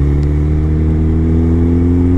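Suzuki Hayabusa superbike engine running loud and close, a strong, steady low-pitched growl with a slight rising rev that holds continuously for a couple of seconds, with no voices.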